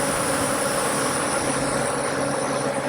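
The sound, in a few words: swarm of bees buzzing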